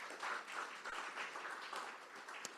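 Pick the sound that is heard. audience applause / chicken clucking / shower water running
audience applause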